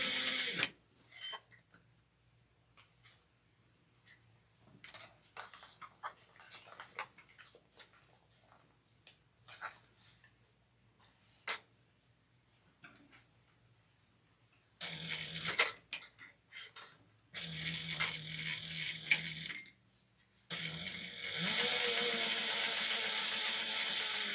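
A sewing machine back stitches a seam on a fabric snack bag, running in short quiet bursts between pauses, then longer louder stretches of steady stitching toward the end.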